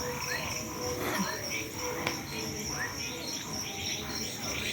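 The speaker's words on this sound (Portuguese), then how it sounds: "Só o barulho do sapo cantando" Frogs croak and chirp steadily through a rural night outdoors around a bonfire, a dense layered chorus of rapid calls at moderate distance with faint background murmur.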